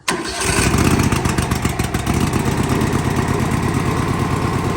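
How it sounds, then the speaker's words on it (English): A small 19 HP engine, choke pulled and fuel open, catches almost instantly after a brief crank and settles into a loud, steady, rapid idle close by. "pull the choke out, again, make sure your fuel is open, and then watch, I promise you it'll start right up"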